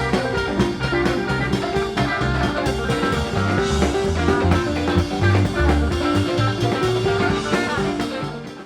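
A band plays a song in a 1972 live concert recording, with a full band of drums, bass, guitars and keys in a dense, busy, continuous groove.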